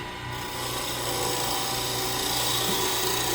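A skew knife shaves a spinning wooden stick on a wood lathe, giving a steady, close rasping hiss that holds at an even level for a few seconds with no talking.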